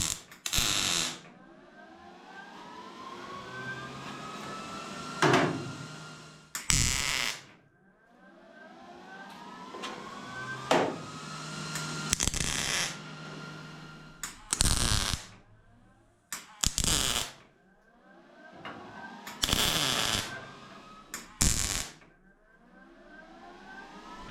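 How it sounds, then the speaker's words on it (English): Welding a rocker panel piece onto a Datsun 280Z: a series of short, loud bursts of crackling weld noise separated by pauses, with a tonal hum and whine running between the bursts. "So now it's time to get this piece welded on right here."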